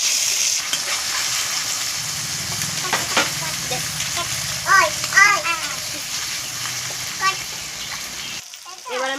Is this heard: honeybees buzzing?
no